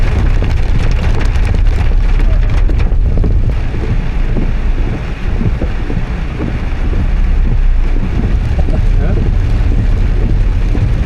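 Steady rain falls during an evening hike at Kabaragala, a loud continuous wash with wind buffeting the microphone and voices talking over it throughout.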